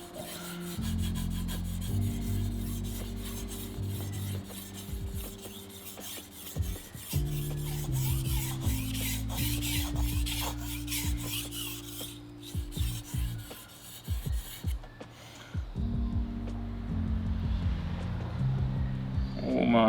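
A stainless steel knife sharpened on a whetstone makes repeated rasping strokes, close and fairly loud, in a steady back-and-forth rhythm with brief pauses between passes.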